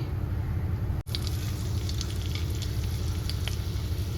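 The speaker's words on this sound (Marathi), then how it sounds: "तेल टाकून मिरची चांगली तळून घ्यायची" Green chillies crackle and sizzle in hot oil with a steady close hiss, interrupted by one very brief dropout.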